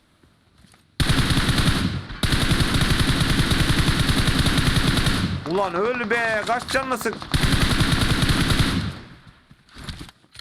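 Video game gunfire during a bridge ambush in a battle-royale match: long, loud bursts of rapid automatic fire with a short gap, someone shouting between the volleys, then another burst and scattered shots.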